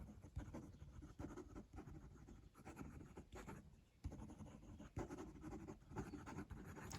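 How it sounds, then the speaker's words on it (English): A fountain pen scratches quickly across paper in short, fast strokes with brief pauses, close and faint, with no one speaking. "Quick writing."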